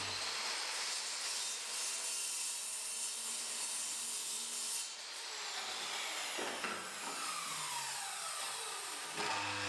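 Wood pieces are cut to length against a stop block, a continuous rasping saw run that eases briefly near the middle and then resumes, loud and close with no talking.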